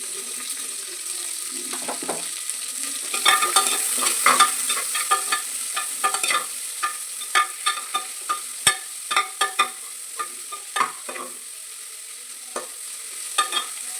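Cut onion is stirred in a frying pan for tomato kushka, giving quick scraping clicks of a spoon against the pan over a light sizzle that come in irregular bursts, close by and with no talk.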